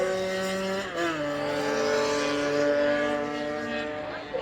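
Stock scooters race past on the Anglesey circuit, their engines whining and climbing in pitch as they accelerate along the start-finish straight, moderately distant and fading slightly toward the end.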